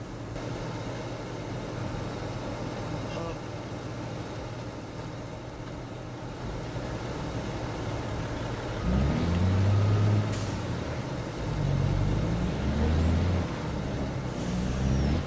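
A modded truck in a farming game running a Cat C15 diesel engine sound, a steady low rumble throughout that swells louder with deeper revving bursts in the latter half, with no talking.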